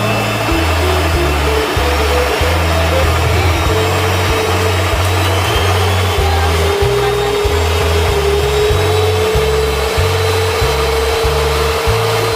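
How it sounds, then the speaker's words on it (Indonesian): Electric mixer beating cake batter at medium speed gives a steady, loud motor whir with a pulsing low hum that holds unbroken throughout. "Selanjutnya kita mix kecepatan sedang dulu."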